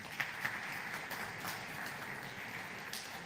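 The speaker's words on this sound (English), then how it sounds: "let's give a round of applause to all three of our speakers" An audience at a Seattle Trans Day of Remembrance event applauds the speakers, a short spell of steady, moderately distant clapping.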